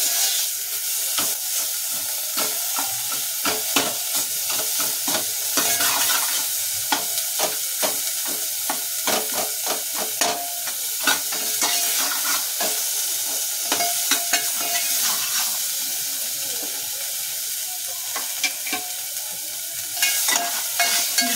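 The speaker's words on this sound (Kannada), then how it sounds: "ಬೆಳ್ಳುಳ್ಳಿ ಶುಂಠಿ ಪೇಸ್ಟು, ಈರುಳ್ಳಿ, ರುಚಿಗೆ ತಕ್ಕಷ್ಟು ಉಪ್ಪು. ಇದು ಚೆನ್ನಾಗಿ ಫ್ರೈ ಆಗಬೇಕು." Garlic ginger paste and onion with salt fry in a pan for vegetarian sweet corn soup, giving a continuous close hiss and sizzle with frequent quick stirring scrapes throughout.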